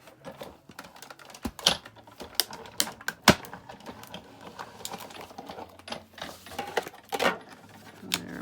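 A craft cutting machine slices a rectangle out of card stock, giving a close run of quick mechanical clicks, taps and buzzy carriage movements with uneven rhythm, fairly loud and with no talking.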